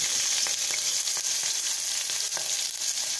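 Green chillies and onions fry in a hot pan for tomato rice, a steady bright sizzle running throughout with a few soft scrapes of stirring, no voices.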